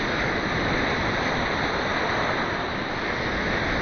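Ocean surf at Kure Beach, North Carolina, roars as a loud, steady wash of breaking waves that fills the whole stretch without pause, with wind buffeting the microphone and no voices.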